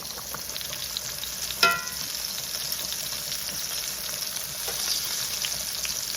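Shrimp coated in Panko seasoning crumbs fry in a pan with a steady, close crackling sizzle, broken once by a sharp metallic clink.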